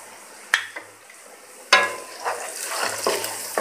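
Finely chopped green chillies go into a pan of garlic ginger paste that has been frying for two minutes. A sharp clatter is followed by a rising close sizzle with occasional stirring scrapes and no voice.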